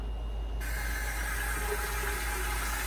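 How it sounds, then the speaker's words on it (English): Warm water pours into a container up to the one-gallon mark while a homemade insect killer is mixed. A steady, loud rushing flow starts abruptly and continues without a break. "you want to fill your container"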